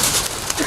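Pigeons from a pigeon-flying club coo briefly at close range, a soft bird call over steady background hiss.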